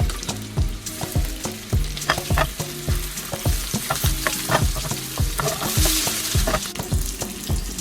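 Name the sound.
chicken reshmi kebabs shallow frying on low heat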